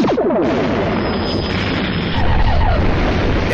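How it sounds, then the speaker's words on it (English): The Martian war machine from the 1953 film The War of the Worlds makes a loud, dense, continuous roar of rumbling, crackling, pulsing noise with a thin high whine running through it. "Every sound of the Martian war machine is familiar to anybody who's enjoyed sci-fi television and cartoons for decades"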